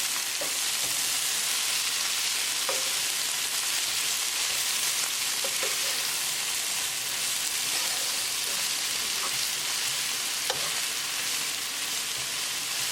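Spinach and mushrooms sizzle and fry in a pan for mushroom dal, a dense steady hiss broken by a few light scraping stirs, close and even throughout.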